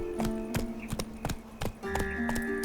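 Horse hooves clip-clopping in The Witcher 3, a steady, close rhythm of sharp hoof strikes over light musical tones.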